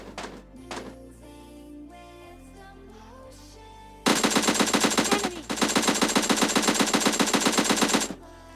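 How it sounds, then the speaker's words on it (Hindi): MK14 rifle fire in a PUBG match, heard as a loud, sustained rapid burst of gunshots lasting about four seconds after a quieter stretch of game sounds. "सामने वाले के पास थी MK14 और उसकी बुलेट्स बिल्कुल मेरे कान के पास से निकल रही थी"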